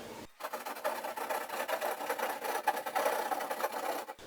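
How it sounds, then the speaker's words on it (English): Hand drywall saw rasping through drywall while hunting for hidden studs behind a TV mount, a steady run of quick back-and-forth scraping strokes, close and fairly loud, starting abruptly and stopping just as suddenly. "If you've never used a hand drywall saw, pretty simple."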